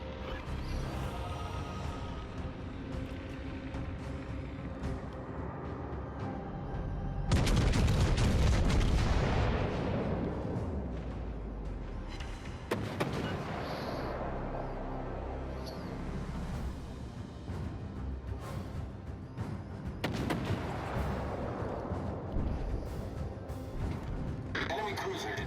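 Naval gunfire from an enemy Hipper cruiser aimed at the HMS Vanguard in World of Warships: Legends, a booming salvo with crashing impacts over continuous engine and battle rumble, with a voice talking throughout.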